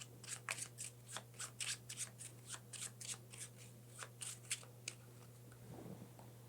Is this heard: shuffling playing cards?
yes